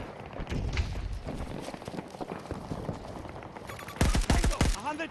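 Burst-fire weapon shots ring out in the video game Battlefield 6, dense crackling gunfire and a loud cluster of rapid shots near the end, under a mix of game noise.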